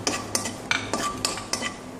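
Cashews are stirred in ghee in a pan, a spoon scraping and clinking against the metal in about six sharp, evenly spaced strokes over a soft sizzle, close and alone.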